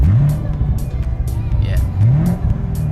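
A Corvette's V8 revs sharply twice with a modified throttle module, the pitch sweeping up and falling back over a steady idle, close and loud, with faint talk in the background.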